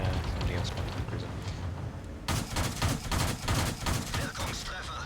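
A Panzer II D tank in World of Tanks fires a rapid series of sharp, evenly spaced shots after a stretch of engine rumble and background noise.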